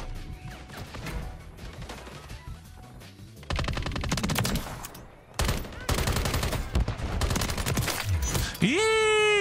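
Gun in Modern Warfare 3 held down in automatic fire, producing long rapid bursts of close, loud gunshots with brief gaps between volleys and a rising electronic tone at the end.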